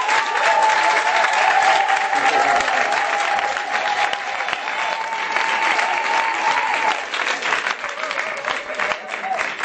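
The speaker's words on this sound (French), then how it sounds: "La femme acclame, s'il vous plaît." An audience applauds loudly and continuously, dense clapping filling the room with a faint sustained tone running under it.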